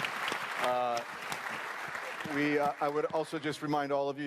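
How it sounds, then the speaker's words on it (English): An audience applauds conference panelists with a soft wash of clapping at the start, which fades as a speaker begins talking over the room. "If you could please give them a round of applause."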